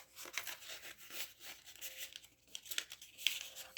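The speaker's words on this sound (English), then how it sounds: "So I'm going to put that back in its little glassine envelope." A small paper piece slid back into a thin glassine envelope, giving soft close crinkles, rustles and rubbing scratches in irregular bursts, quiet and with no talking.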